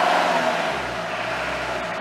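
A diesel car engine, just restarted after a fuel filter change and re-priming, runs with a steady, close, rumbling idle that holds an even level for the whole moment.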